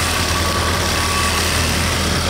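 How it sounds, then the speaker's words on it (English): Original engine of a 1978 Cadillac Eldorado idling, a steady close low rumble with constant broadband noise and no speech. "It has the original engine, it's running,"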